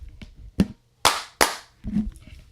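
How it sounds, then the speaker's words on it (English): Sharp hand claps ring out near the microphone: one clap, then two loud ones in quick succession, with faint room noise between and a soft voice briefly at the end. "Y'all hear the clapping?"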